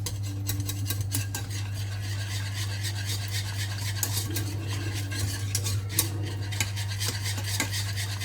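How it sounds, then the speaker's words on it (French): A spoon stirs a sauce seasoned with pepper and parsley in a pot on the stove, giving steady scraping and clinking strokes against the metal over a constant low hum. "Et on remue bien tout ça."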